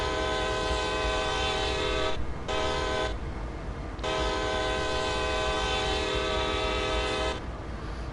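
A CSX GT38 diesel locomotive in the Train Sim World 2 video game gives off a loud, steady engine drone with strong tonal harmonics, broken by a few brief dips in the sound, with no voices.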